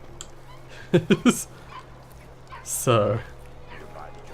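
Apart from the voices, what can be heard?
dog barking in the distance in video game Dishonored 2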